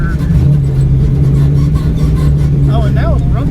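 A small block Ford V8 revs high toward its limiter set at 6,700 rpm, a loud sustained engine roar close by with voices talking over it near the end.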